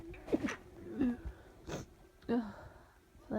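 Several quiet, stifled sneezes come in short bursts about every second, close and breathy, with a little vocal sound between them.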